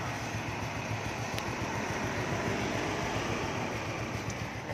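A 2005 Honda Wave ZX motorcycle engine idles smoothly and quietly, a steady low hum and whir that holds even and unbroken throughout, with no talk over it.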